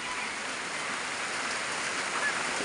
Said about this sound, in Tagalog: Lakas na ulan na may dalang hangin